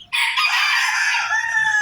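A rooster crows loud and close in the morning while being raised and fed, one long, drawn-out call holding steady for nearly two seconds with little else around it.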